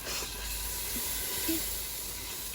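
Petroleum jelly melting in a pan gives a soft, steady sizzling hiss throughout at low volume, like grease bubbling, with a couple of faint pops.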